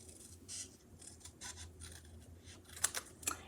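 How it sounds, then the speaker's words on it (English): Scissors cut straight across a paper card, giving faint soft snips and a couple of sharper closing clicks near the end, quiet and close, with no speech. "all I have to do is cut it straight across"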